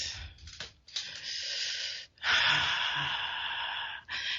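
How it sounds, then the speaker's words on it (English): Slow, deep breaths fill a radio show studio, with long airy inhales and exhales close to the microphone separated by brief pauses. "Taking those deep, deep breaths."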